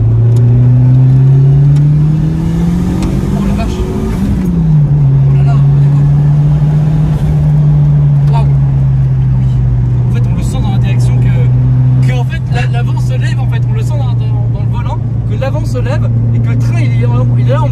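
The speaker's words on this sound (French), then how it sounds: "comme c'est un moteur Clio 16 soupape, faut bien être dans les tours en fait" A Clio 16-valve engine swapped into a Renault Super 5 GT Turbo revs hard up close, its pitch climbing and then holding as a loud steady drone, with people talking over it.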